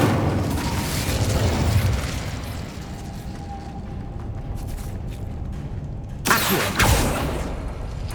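Incendio fire spell cast in Hogwarts Legacy gives a sudden burst of flame, a sharp whooshing blast near the end that stands out over low rumbling game ambience.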